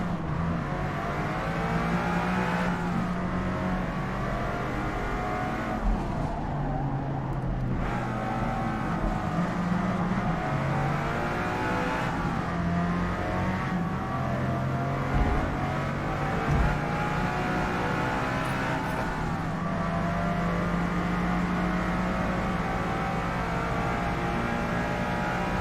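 A Lamborghini Countach engine roars steadily through a race in the Forza Motorsport video game, rising and falling in pitch with gear changes and throttle across the whole stretch, loud and continuous with no voices.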